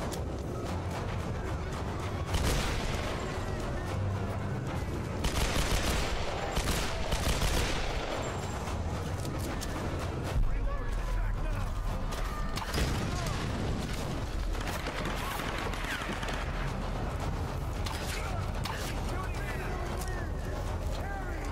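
Continuous video game gunfire in Tomb Raider Definitive Edition, a dense barrage of shots with heavier booms, loud and constant throughout while someone talks over it.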